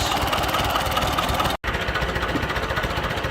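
A David Brown 990 tractor's diesel engine runs steadily at a fast, even idle, close by, with a brief cut in the sound midway.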